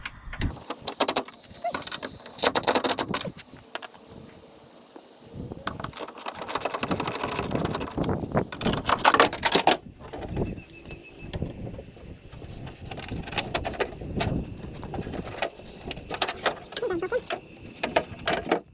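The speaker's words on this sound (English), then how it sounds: "So I'm gonna be using my air impact to just get it loose." An air impact wrench loosens tight bolts on the door of a 2007 Ford F150, giving repeated loud rattling bursts of hammering with short gaps and some tool clatter between them, close up.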